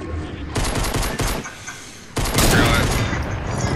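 Bursts of rapid gunfire in an online shooter game, loud and close, with a dense volley, a short lull, then a longer sustained burst of firing.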